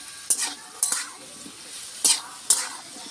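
Potato and papaya pieces fry quietly in a pan with a soft, steady sizzle, broken by four sharp scraping stirs of a utensil spaced unevenly across the moment.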